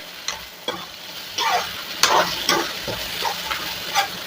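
Tomatoes with salt being sautéed and stirred in a pan, giving a steady sizzle with repeated scraping stir strokes at close range and no talk.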